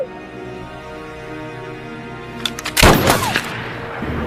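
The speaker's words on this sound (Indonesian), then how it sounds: "si Benjamin pun menembak ke arah lain" A single loud gunshot in a film, fired away from a man who wanted to be shot, sharp and close, cracking out after a quiet stretch of low hum and followed by a brief ringing decay.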